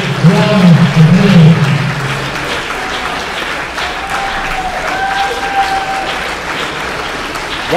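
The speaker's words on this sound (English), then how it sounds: "the crowd giving Sean Carr a standing ovation here" A wrestling crowd gives a standing ovation during a chain match event, loud applause and cheering at first that settles into sustained clapping, with a voice speaking over it.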